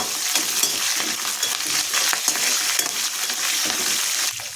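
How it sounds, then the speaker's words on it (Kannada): Dried red chillies and curry leaves fry in a hot pan for beetroot chutney, with a loud, continuous crackling sizzle and scraping stir strokes close by. "ಒಣಮೆಣಸಿನ್ಕಾಯನ್ನು ಸಹ ಸೇರಿಸಿ ಇದನ್ನು ಸ್ವಲ್ಪ ಫ್ರೈ ಮಾಡ್ತಾ ಇದ್ದೀನಿ ಜೊತೆಗೆ ಕರಿಬೇವಿನ ಸೊಪ್ಪನ್ನು ಸಹ ಸೇರಿಸಿ ಇದನ್ನು ಫ್ರೈ ಮಾಡ್ತಾ ಇದ್ದೀನಿ"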